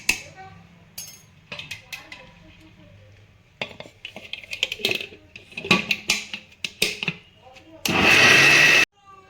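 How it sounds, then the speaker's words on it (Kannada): Mixer grinder grinding soaked wheat with water for wheat halwa, heard as one loud, steady whir lasting about a second near the end, after a stretch of clinking dishes and kitchen handling with people talking. "ಈಗ ಇಷ್ಟು ನೀರು ಹಾಕಿ ಮತ್ತೆ ನಾನು ಮಿಕ್ಸಿಗೆ ಹಾಕ್ತೀನಿ"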